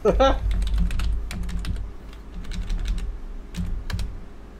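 Computer keys click rapidly in uneven bursts, close by. A voice starts at the very beginning.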